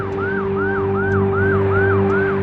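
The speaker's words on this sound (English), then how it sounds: "Your ambulance is here, Gemma." A road ambulance siren wails in a steady repeating rising-and-falling two-tone pattern, loud and close, over a constant low engine and rotor-like hum, with no talking.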